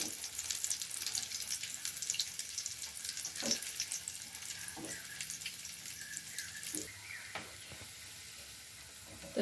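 Food fries in hot oil, a fairly quiet, steady crackling sizzle with a few sharper pops and clinks scattered throughout.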